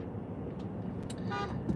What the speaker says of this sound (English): What are you honking at me for, man?